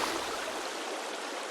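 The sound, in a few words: river water carrying logs in video game Sons of the Forest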